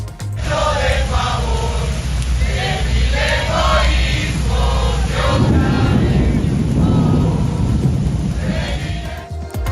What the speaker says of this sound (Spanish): Se escuchan los truenos enfrente de la OEA, aguacero abrumador en Washington